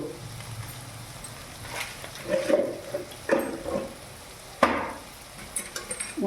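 Sunrise chili powder being stirred into a frying pan for a vegetarian soybean rezala, with a low sizzle broken by several scraping, clattering stirs of moderate loudness.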